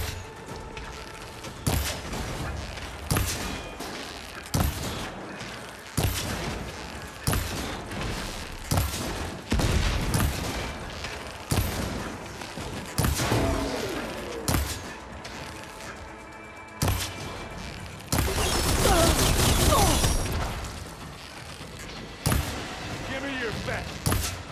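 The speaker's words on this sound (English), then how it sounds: "Looks like Zoe's giving us some supporting fire." Supporting fire from Zoe in the Horizon Forbidden West video game comes as sharp, regularly spaced impacts with booming blasts and mechanical clatter, mixed with game effects and a denser burst near the end.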